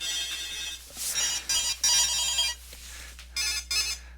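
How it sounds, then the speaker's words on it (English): A mobile phone ringtone plays in short, bright melodic bursts with brief gaps between them, fairly close and clear, with no talking over it. "That was my phone cameoing in my video."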